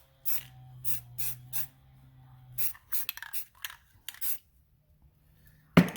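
Short bursts of spray paint on a John Deere F525 PTO clutch part, several hissing puffs in a loose rhythm with pauses, close and fairly loud, followed by a few faint handling clicks.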